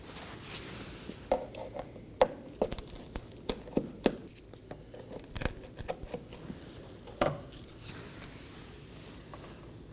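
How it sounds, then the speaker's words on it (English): Small scattered clicks, scrapes and taps as a trim tool pries a push pin clip out of the front inner fender liner on a 2015-2023 Nissan Maxima, close and fairly quiet. "I'm going to go ahead and remove it using a trim tool."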